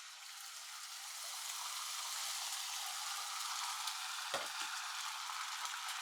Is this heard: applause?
no